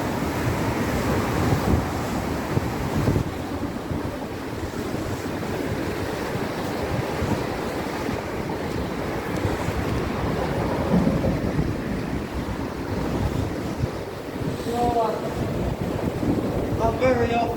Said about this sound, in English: I said that's a noisy weir.